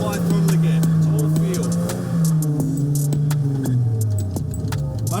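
A drift car's engine runs steadily through figure eights, a droning note that sags and rises as the throttle is worked, close and continuous, with some faint rattling on top.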